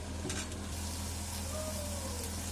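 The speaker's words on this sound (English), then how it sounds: "So I transferred it to a kadai so that the cooking process gets a bit faster to bunao it, to fry it" Mutton frying in a kadai for curry gives a steady, low sizzle throughout, with faint stirring scrapes near the start and no talking.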